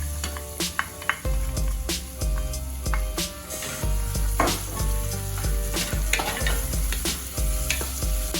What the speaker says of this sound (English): Saute the garlic first until fragrant. Add your onions.